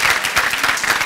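An audience at a 2017 STEM academy graduation ceremony applauds the graduates' parents, a dense, loud wash of many hands clapping close by without pause.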